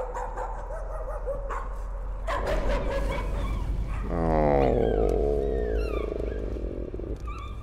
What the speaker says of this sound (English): Yeah, there's a dog.